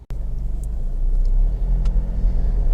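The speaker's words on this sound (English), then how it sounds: "the engine is running here" A Honda CR-V 2.2 i-DTEC diesel 4x4 idles with a steady, low rumbling drone close by, after a brief click at the start, with no talking.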